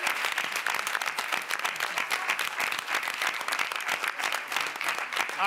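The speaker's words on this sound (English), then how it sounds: "They also deserve applause." Audience applause fills a press conference room at the Cannes film festival, a dense, steady wash of many hands clapping that holds without pause throughout.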